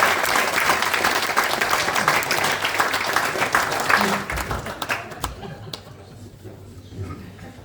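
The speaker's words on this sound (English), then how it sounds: "I think that's worth a round of applause." An awards-evening crowd applauds a photographer with dense, steady clapping and a little laughter, which thins out and fades after about four seconds, leaving a few last claps.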